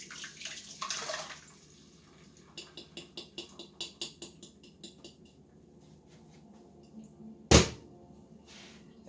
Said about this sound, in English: Now I'm just going to add my sauce.